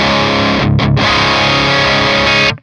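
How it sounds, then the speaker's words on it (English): An electric guitar plays a crunchy, moderately distorted chord loudly through a Quad Cortex capture of a crunch amp channel. The chord is struck, briefly choked and restruck, then rings out until it cuts off sharply. "And then for these 4 scenes, we have some crunch tones dialed in"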